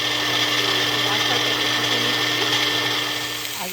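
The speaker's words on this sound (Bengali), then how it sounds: "এবার পিষছি মশলাটা।" An electric grinder whirs steadily, grinding a spice paste of poppy seed, fennel, ginger and mustard, a close, continuous motor drone with a steady tone that tapers off slightly at the end.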